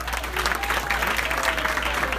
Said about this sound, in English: and he needs his applause,